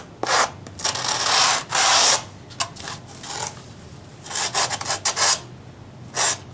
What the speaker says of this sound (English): Run the sand block down.